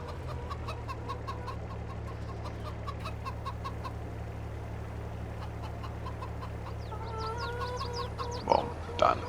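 Chickens clucking steadily on a farm in the video game Farming Simulator 22, repeated soft clucks over a constant low hum, ending with a couple of louder squawks.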